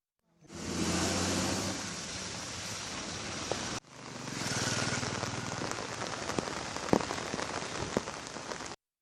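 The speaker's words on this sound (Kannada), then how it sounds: "ಇದರ ಮಧ್ಯೆ ಇಂದು ಕೂಡ ಬೆಂಗಳೂರಿನ ವಿವಿಧೆಡೆ ಉತ್ತಮ ಮಳೆಯಾಗಿದೆ" Steady rainfall in Bengaluru, a dense continuous hiss of drops on surfaces with a brief break midway and occasional louder drips, no voices.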